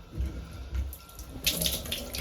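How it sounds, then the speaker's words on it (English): Water runs from a household shower as it is turned on, a soft rushing spray that builds and brightens near the end, with faint low knocks underneath. "I go into the shower and turn the shower on, just to spill a bit of water."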